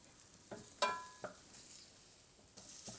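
Tomato puree frying with sauteed vegetables in a pan for a demi-glace base: a quiet, steady sizzle broken by a few short clinks and scrapes of stirring.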